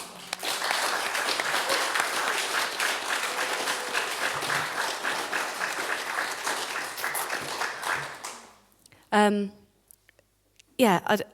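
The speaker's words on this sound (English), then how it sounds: "a big round of applause, please, to Frome Festival and also to yourselves for being here" Audience at a Frome Festival concert gives a sustained round of applause for about eight seconds, then it cuts off to near silence with a couple of brief spoken bursts.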